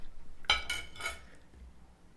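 A knife cuts into a Cadbury Dairy Milk Big Taste Choco Biscuit Crunch bar, giving two or three sharp crisp cracks close up in quiet surroundings.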